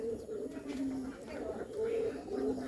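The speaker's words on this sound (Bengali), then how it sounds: "অনেক সুন্দর ডাকতেছে কবুতরগুলো।" Bombay pigeons in a coop give repeated deep, throaty coos, near and fairly loud, with a voice speaking underneath.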